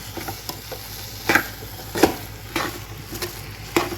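Amla thokku being stirred through masala in a pan, a series of separate scraping strokes about every half second to a second, close and moderately loud, with a faint sizzle beneath and no voices.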